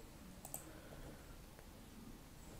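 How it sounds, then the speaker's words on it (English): A single soft computer mouse click sounds near the start, faint and close, followed by quiet room hiss with no talking. "click on start virtual camera"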